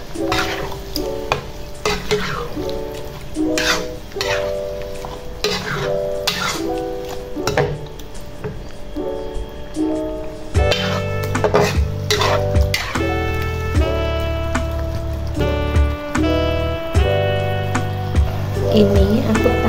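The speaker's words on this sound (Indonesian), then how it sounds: "kita masukkan daging sapinya ya Bun. Kita masak sampai dagingnya empuk." Beef stirred and frying in a fragrant spiced paste in a pan for a spicy beef dish, with steady scraping of the utensil and a soft sizzle. The sound runs continuously and is close.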